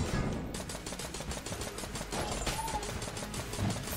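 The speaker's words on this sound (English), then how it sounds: "Use the nail gun." A nail gun in the Enter the Gungeon video game fires in a rapid, steady stream of sharp clicking shots for several seconds, a dense rhythmic burst at moderate level.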